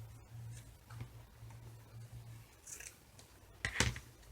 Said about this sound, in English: let me go ahead and cut this one